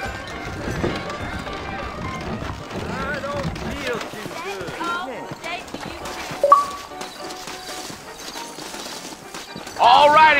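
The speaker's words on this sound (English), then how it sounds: "I got the horses saddled up and ready out front." Horse hooves clip-clop at a trot in Red Dead Redemption under ongoing talk, with a horse whinnying near the end and other busy game sounds mixed in.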